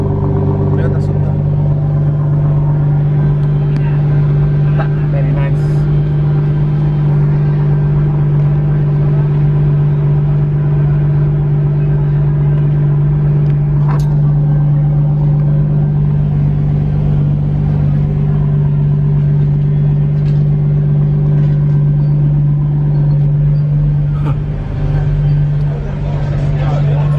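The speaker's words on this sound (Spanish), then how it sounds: "Oh, un Toyota Supra, miren." A Toyota Supra on a city street in New Brunswick, New Jersey, gives a loud, steady low engine drone at close range, with faint traffic and background sounds around it.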